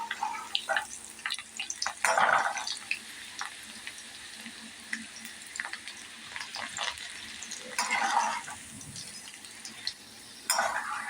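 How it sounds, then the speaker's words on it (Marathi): Bitter gourd slices fry in a pan over medium heat, giving a soft steady sizzle with intermittent stirring and scraping bursts. It is fairly quiet and close, with no talking. "आता हे आपण चांगलं फ्राय करून घ्यायचं मिडियम गॅसवर करायचं चांगलं"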